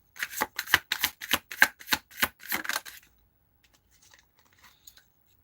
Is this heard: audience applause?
no